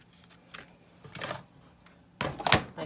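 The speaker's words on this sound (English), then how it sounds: "my cut and emboss sides are going up." The sides of a cut-and-emboss machine fold up: a few soft plastic clicks and shuffles, then a louder rattling snap near the end, close by and quiet, with no voices.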